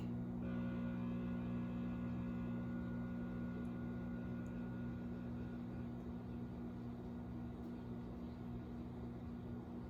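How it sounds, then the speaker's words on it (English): A steady low mechanical hum with a strong tonal drone from a microwave oven running close by, continuous and unchanging for the whole stretch. "Microwave just made a weird noise."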